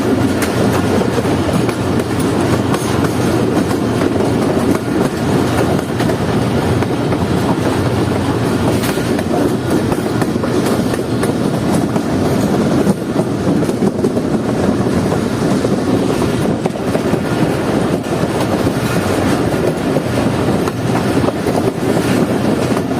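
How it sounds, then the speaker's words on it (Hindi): The Jaffer Express, hauled uphill by three locomotives on the line toward Quetta near Abegum station, rumbles steadily with continuous rail clatter and wind noise, a loud unbroken drone throughout. "लोकोमोटिव्स अपने पूरी ताकत लगाते हुए जाफर एक्सप्रेस को ऊपर की तरफ चढ़ा रहे हैं।"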